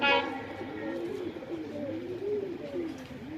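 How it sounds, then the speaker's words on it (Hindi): Soft, throaty coos from a pair of Madrasi pigeons warble close by in rolling phrases, with faint background noise and no clear talking, in Ajmer, Rajasthan. "ये जोड़ा है भाइयों मद्रासी कबूतर का।"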